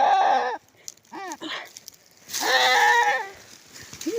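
A goat bleats in jungle undergrowth: several wavering, nasal calls in separate bursts, fairly close and loud, with short quiet gaps between them and no talk.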